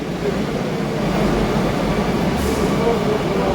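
A steady, loud rumble of a metro train at a Kochi station fills the space, broad and continuous with a faint hiss rising near the end.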